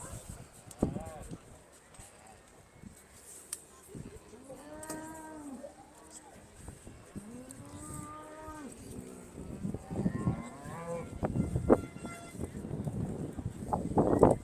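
Aberdeen Angus cow and calf at a cattle show, giving several drawn-out moos between about four and eight seconds, with hooves shuffling, crowd noise and people talking throughout.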